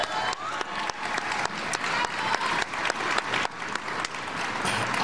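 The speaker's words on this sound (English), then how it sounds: "Give her a big round of applause." A crowd at a Soldier Ride event in Washington, DC applauds Tammy Duckworth with steady, dense clapping that holds loud and even for about five seconds, with no voices above it.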